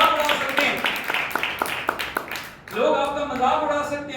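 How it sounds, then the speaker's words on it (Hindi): Church congregation clapping in a steady rhythmic beat, mid-distance, running under a preacher's talk and giving way to continued speech. "ताली बजा के हम प्रभु की मान करते हैं।"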